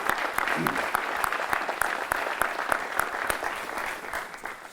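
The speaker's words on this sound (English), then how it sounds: "I want to give them a round of applause and thank you for being here today to celebrate." A crowd at a ceremony honoring valedictorians claps steadily, with a few sharp individual claps standing out above the thick applause, which fades slightly toward the end.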